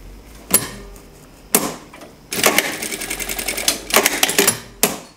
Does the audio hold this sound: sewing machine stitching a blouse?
yes